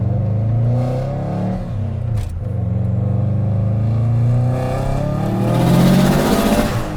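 A 400 hp Subaru Impreza RS engine pulls hard under acceleration, a loud sustained roar rising in pitch with a brief dip mid-run, heard close from inside the cabin with no talk.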